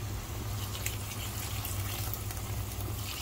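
Water poured into a pot of clams cooking on the stove, a steady close liquid splash and trickle lasting a few seconds over a low background hum.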